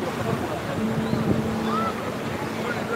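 Seaside surf washes steadily along a shoreline at sunset, a broad continuous rush with wind buffeting the microphone, while a voice murmurs faintly underneath.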